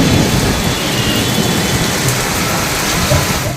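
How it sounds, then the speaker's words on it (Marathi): Heavy rain pours steadily through a night thunderstorm over Solapur, with deep thunder rumbling low beneath a dense, continuous wash of loud rainfall, no voices present. "विजांचा कडकडाट आणि ढगांचा गडगडाट"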